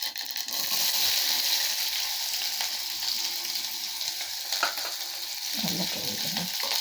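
Onions frying in hot oil with fennel seeds for a hotel-style potato masala give off a steady, dense sizzle, with a brief stirring rustle near the end.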